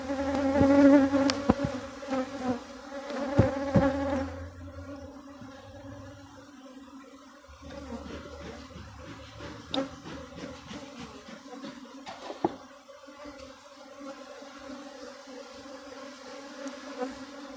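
Honeybees buzz at an open beehive during a spring inspection. A dense, droning hum fills the air close by, with a few louder passes and occasional handling knocks.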